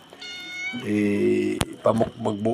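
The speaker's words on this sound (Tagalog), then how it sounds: "medyo nagugutom na si Meow Meow" A cat meows several times close by, drawn-out and tonal, with a short click in between and a person's voice nearby.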